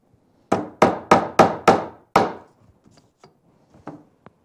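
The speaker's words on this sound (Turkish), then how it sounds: "200 gramlık çekiç kullanıyor Seher Hocam." A 200-gram hammer tapping nails into a wooden board: six sharp, ringing strikes in quick succession, then softer scattered taps and knocks, close and clear with no talk.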